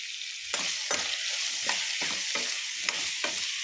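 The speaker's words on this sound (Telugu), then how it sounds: "ఇవైతే ఉల్లిపాయలు వేసాము చిన్న చిన్న సాంబార్ ఉల్లిపాయలు ఇవైతే వేగాలి" Small sambar onions with salt and turmeric frying in an oil-filled pan for egg pulusu, a steady close sizzle broken by repeated stirring scrapes about every half second, with no talk.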